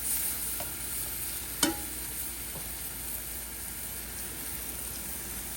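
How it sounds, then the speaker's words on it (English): Leeks with green beans cook down in a pan with a soft steady sizzle, a faint background hiss, with a single sharp clink of a utensil partway through and no voices. "Okay, so the leeks are cooking down a little bit."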